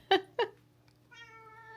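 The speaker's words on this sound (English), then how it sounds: "letting them hear you meow at me" A pet cat meows up close: two short sharp chirping calls followed by a longer, drawn-out tonal meow in a quiet indoor space.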